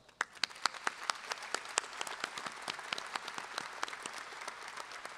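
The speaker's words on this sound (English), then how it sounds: "Please join me again in applauding our stellar scholars" Applause for graduating scholars at the LSU 2017 spring commencement, a fairly faint, spacious crowd clapping with distinct individual claps popping out across a large hall.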